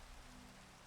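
Rain falling in the Minecraft SkyFactory 4 game, a faint, steady wash of rain hiss with no breaks.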